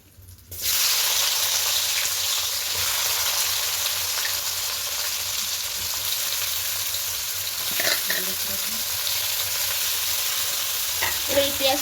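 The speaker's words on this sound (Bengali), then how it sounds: "এবার এই পেঁয়াজটা ভেজে একটু বেরেস্তা করে নেব।" Sliced onions hit a hot wok and burst into a loud sizzle, browning toward crisp fried onions for chicken biryani. The frying hiss stays strong and continuous, with a few clinks of stirring.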